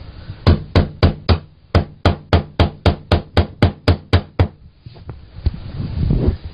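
Hammer striking a zirconia dental restoration in a chipping test, about fifteen sharp, evenly spaced knocks in quick succession, followed by quieter scattered taps and handling noise.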